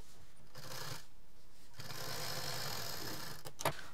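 A sewing machine stitches a zip pencil pouch, with a short burst of whirring followed by a longer continuous run and a sharp click at the end. The sound is close and moderately quiet, with no voices.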